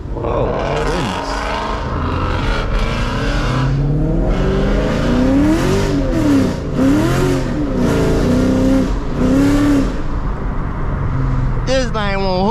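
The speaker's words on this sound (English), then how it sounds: "This thing won't hook up for nothing, bro. I'm spinning everywhere." A Chevrolet Camaro SS spins its wheels on a wet road in the rain, the engine revving up and down repeatedly, loud and close, with tire squeal near the end.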